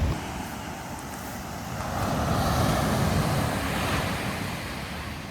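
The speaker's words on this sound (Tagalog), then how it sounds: "Kita dito yung alon, oh." Ocean surf with strong waves rolls and crashes steadily on the shore at Dingalan, a broad roar that swells midway, with wind buffeting the microphone and no voices.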